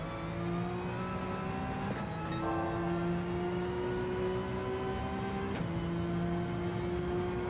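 Porsche 911 RSR (991) race car engine in Gran Turismo 7 holds high revs with a steady, close tonal whine, dipping briefly at gear changes around two and five and a half seconds before climbing again.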